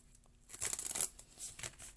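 Tarot cards being shuffled during a reading give a short burst of soft papery riffling and rustling up close, quiet and without talk.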